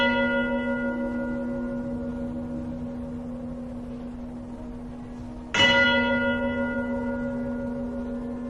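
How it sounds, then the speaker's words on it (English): Bells chime inside a stone structure, a sustained ringing tone carrying on before a second loud strike near the end blooms with bright overtones and a long resonant decay. "studied the cymatic patterns displayed when bells chimed within the structures."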